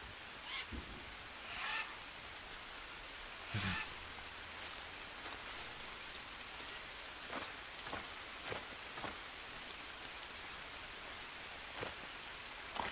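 Faint, steady patter of rain in the survival video game Green Hell, with scattered louder drops and soft rustles, heard quietly and alone.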